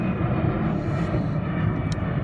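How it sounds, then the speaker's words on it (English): A loud airplane passing overhead, a dense continuous low roar that holds steady throughout with no clear voices. "that plane is loud"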